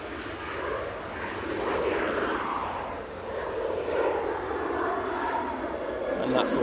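A Ryanair jet airliner taking off toward Rome from runway 05 left at Manchester Airport, its engines giving a broad, steady roar that swells slightly toward the end, heard from a distance with faint talk mixed in.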